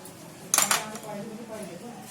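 A brief clatter of a hard mixer grinder jar being set down and handled, a couple of quick knocks, followed by quiet kitchen room sound.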